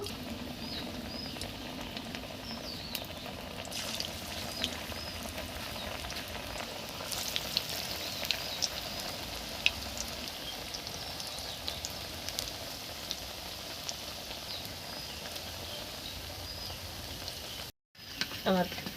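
Onion fritters (piyaji) frying in hot oil give a steady, close sizzle and crackle that runs almost the whole time, with a short break near the end.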